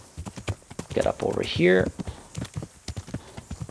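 Horse hooves clip-clop steadily on the ground during riding in the Kingdom Come: Deliverance video game, a brisk rhythmic series of close knocks while someone speaks briefly over them.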